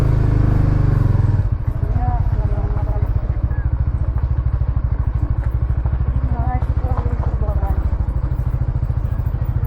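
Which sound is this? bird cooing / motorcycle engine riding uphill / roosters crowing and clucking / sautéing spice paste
motorcycle engine riding uphill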